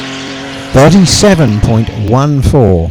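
Ken Dolan's race car crossing the finish line at the Gurston Down speed hillclimb, its engine roaring loud and close through rising and falling revs, with a commentator talking over it.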